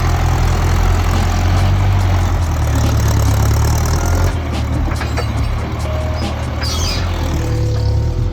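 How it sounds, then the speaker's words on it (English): A skid steer engine runs steadily at a low, heavy idle close by, a loud continuous rumble that dips slightly midway, with no talking over it. "here comes the skid steer"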